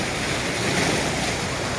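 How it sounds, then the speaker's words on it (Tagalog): Rough sea waves surging and washing continuously, a loud, dense roar of surf with wind buffeting the microphone throughout. "malaking tubig, mahalo ng dagat"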